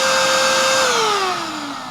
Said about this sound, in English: I actually have a loud vacuum cleaner turned on right now, and that is pretty loud.